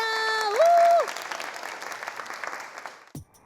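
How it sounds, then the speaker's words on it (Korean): Audience applause greeting three career mentors brought on stage at a Korean youth career event, broad clapping after a brief tonal chime, fading steadily over a few seconds, with no talk over it. "박수 부탁드립니다."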